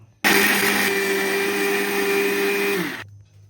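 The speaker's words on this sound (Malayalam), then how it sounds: "ഇനി നമുക്ക് മിക്സിയിലിട്ടത് അടിച്ചെടുക്കാം" A mixer grinder blends roasted coriander and chilli with water into a paste for tamarind tuna curry. It starts abruptly with a loud, steady high whine, runs for about three seconds, then winds down and stops.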